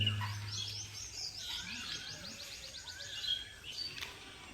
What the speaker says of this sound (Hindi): सुबह अभी भी मुर्गे की बांग, चिड़ियों और बकरी की आवाज़ की शोर से होती है